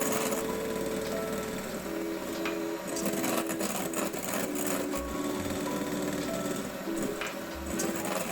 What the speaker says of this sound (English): Beat egg whites until stiff but not dry. Gradually beat in remaining third cup of sugar until very stiff.